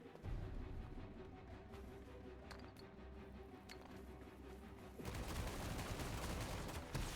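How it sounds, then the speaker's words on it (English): A Tommy gun fires off a full clip in the video game Forspoken as a rapid automatic burst of gunfire. It swells louder and denser near the end over a low background hum. "the way the Tommy gun works, is you shoot the full clip"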